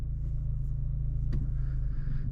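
A 2025 Honda Civic Si with a manual transmission creeps forward on clutch alone with no throttle, a steady low engine idle rumble close by, with a brief faint knock partway through.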